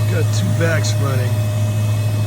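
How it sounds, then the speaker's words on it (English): Two vacuum machines run during removal of a yellowjacket nest from a brick wall and electrical box at a childcare center, a steady low hum continuing under a voice. "Two vacs running,"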